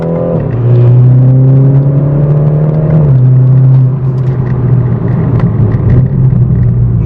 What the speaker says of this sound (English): I am so excited with my new AWE exhaust, and it's sounding exactly how I want this car to sound